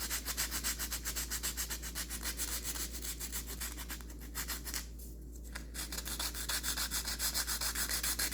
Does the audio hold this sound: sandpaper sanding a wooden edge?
yes